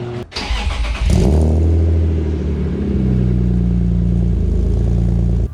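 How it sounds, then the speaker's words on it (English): A BMW E36 M3 fitted with a Bimmerworld race exhaust starts and settles into a loud, deep, steady idle rumble, heard close up from outside the car and alone. "I'm gonna try and get some exhaust noises from outside of the car, inside of the car."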